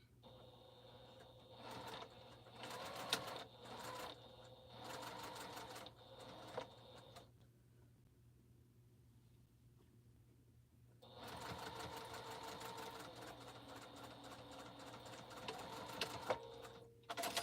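A sewing machine re-sews a quilt seam in two runs of rapid, rhythmic stitching with bursts and pauses, separated by several seconds of near silence, faint and close.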